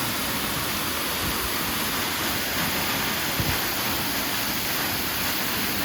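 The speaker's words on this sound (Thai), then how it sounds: "สถานที่สุดท้ายของน้ำตก ถือว่าสวยงามที่สุดในน้ำตกบ้านนี้" Waterfall at Ban Huai Huat in Thailand, a steady, loud, unbroken rushing roar of falling water that fills the whole stretch with no voices.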